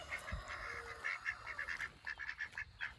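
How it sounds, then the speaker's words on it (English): Swedish Blue ducks, including drakes, calling in a backyard garden setting, giving a run of repeated nasal honking quacks at a moderate distance with a steady rhythm, with no talk. "And guys, our Swedish blue ducks."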